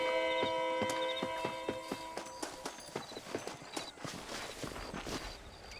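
Horse hooves clip-clop at a steady walking rhythm in the Red Dead Redemption video game, with a faint tonal musical background fading out as the hoofbeats continue, moderately close and clear without talk.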